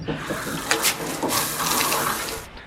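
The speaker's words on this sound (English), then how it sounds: "I'm gonna go have a shower, freshen up." Water from a home shower in a tiny house runs steadily as a close, loud broadband hiss with small splashy fluctuations, heard alone with no talking.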